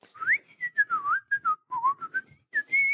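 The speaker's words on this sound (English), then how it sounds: "I can do normal whistles pretty loud." A melodic whistled tune, loud and close, with quick bright notes in short phrases that rise and fall, no talking.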